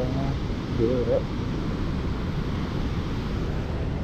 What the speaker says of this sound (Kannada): ನೋಡಿ ಯಾವ ಫೋರ್ಸಲ್ಲಿ ನೀರು ಹೋಗ್ತಾ ಇದೆ